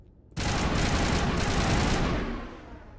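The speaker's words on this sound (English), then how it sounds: "So let me shoot the NPC," Gunfire in the video game Mass Effect bursts in abruptly as a rapid, loud fusillade of automatic shots, sustained for about two seconds before tailing off, with no talk.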